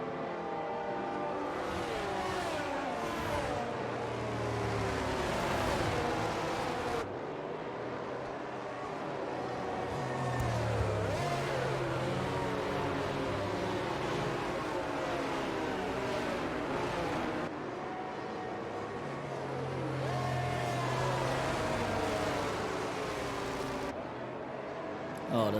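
F1 22 race cars on the Mexico circuit run slowly in a pack behind the safety car, a steady droning engine hum with shifting pitch throughout, under a commentator's voice.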